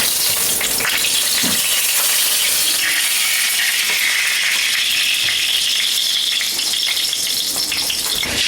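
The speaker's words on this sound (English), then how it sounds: "We're gonna add our oil into the pan." Oil poured into a frying pan on medium-high heat for Greek cheese saganaki, a loud, steady, close sizzle and hiss that runs unbroken throughout, no talk.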